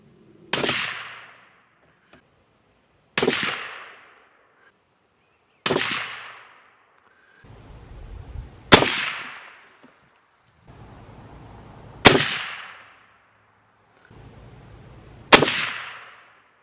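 Six sharp rifle shots from a Sako 90 Quest in .300 Win Mag at a shooting range, evenly spaced a few seconds apart, each a loud crack with a decaying ring, and no voices.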